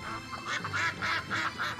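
Ducks quacking in the Niaowu minigame of the video game Shenmue III, a run of about five loud, nasal quacks in a quick uneven rhythm with short gaps between them.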